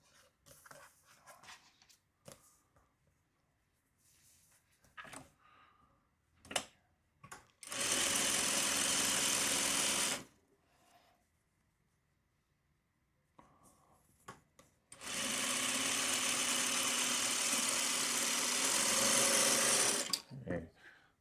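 A sewing machine stitching a quilt top runs in two loud steady bursts of several seconds each, with quiet handling noises, faint breathing or panting and soft talk between the runs.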